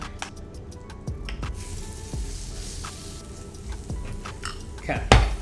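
Canned tuna being mixed with cumin, garlic and chili, with a spoon tapping and scraping a bowl in a run of sharp clicks and knocks at close range, ending in a louder clatter.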